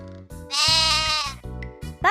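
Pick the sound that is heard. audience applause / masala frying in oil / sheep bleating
sheep bleating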